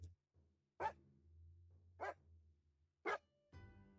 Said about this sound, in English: Oh my god, puppy, I can hear you.